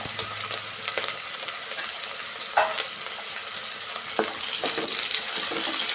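Chopped onion and curry leaves fry in hot oil for a vegetable pulao, giving a steady, close sizzle with occasional stirring clinks and no talking.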